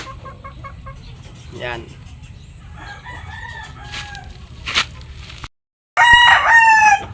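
Sweater gamefowl in a backyard yard cluck softly, then a rooster crows loudly nearby, with a person speaking in the background.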